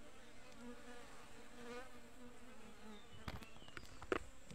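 Wild honeybees buzz steadily inside a forest, a continuous droning hum with a few sharper close passes and rustling knocks near the end; no one speaks.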